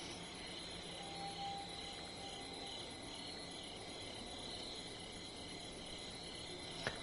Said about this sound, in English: I'm not gonna listen to a campground cricket simulator.